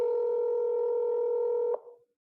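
An outgoing phone call tone, one long steady electronic tone heard alone and clear, then cut off abruptly with a brief fading tail.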